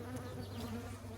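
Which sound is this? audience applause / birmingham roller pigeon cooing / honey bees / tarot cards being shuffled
honey bees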